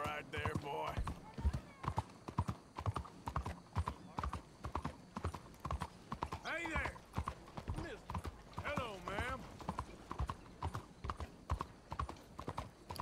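Horse hooves clop in a steady fast rhythm in Red Dead Redemption II, loud and close, with a horse whinny and a voice talking over the gait.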